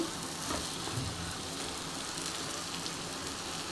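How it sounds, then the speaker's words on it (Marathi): Cluster beans dropped into a hot pan with spiced oil for a village-style bhaji, giving a steady, dense sizzle that stays constant and close, heard alone without talk. "आता मी ही गवार टाकून घेते"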